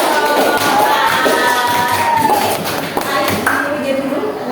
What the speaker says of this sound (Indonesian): tepuk tangan anak-anak buat jawab